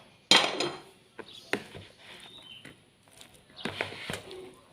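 Steamed cassava tape and margarine get stirred together in a bowl, with a sharp utensil clank followed by scattered scraping knocks and taps against the bowl.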